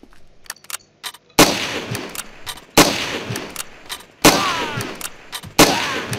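Sniper rifle shots in a video game shooter boom out four times at even, spaced intervals, each a loud sharp blast with a ringing tail, after lighter clicks and mechanical ticks.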